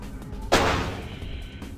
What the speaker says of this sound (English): I think we may have to deploy our sniper rifle.